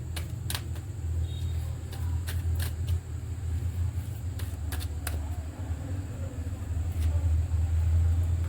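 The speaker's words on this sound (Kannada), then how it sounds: "ಇವತ್ತು ಭಾಳ ಗಾಡಿ ಅಡ್ಡಾಡಕತ್ತ." Vehicles passing outside a home, a continuous low traffic rumble with engine drone swelling and fading, plus scattered sharp clicks and taps nearer by.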